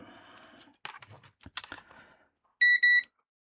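A multimeter on continuity mode gives two short, bright electronic beeps, close and loud, while probing a Revitive circuit board for shorts to ground; quieter handling clicks and taps come before the beeps.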